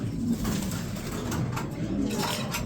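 Racing pigeons coo softly and repeatedly nearby, low rounded calls rising and falling against a faint background hiss.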